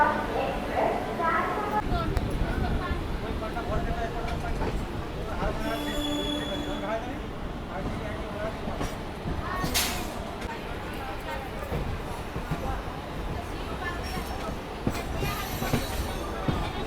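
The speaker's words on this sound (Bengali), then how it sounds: "আমার ট্রেন ছেড়ে দিল 11:52 Khurda road junction railway station থেকে" A local train pulls out of Khurda Road Junction station, wheels squealing and cars rattling over the rails in a loud, steady run, with voices heard over it.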